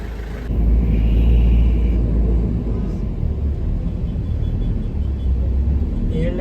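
A car carries passengers toward the airport in Port Harcourt, Nigeria, with a steady low road rumble and engine drone filling the cabin, close and continuous after a brief start.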